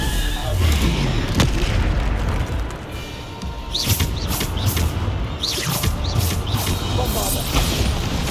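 Bombarda exploding spell in the game Hogwarts Legacy, heavy booms and bursts going off repeatedly amid a loud, dense battle din, with a voice talking over the action.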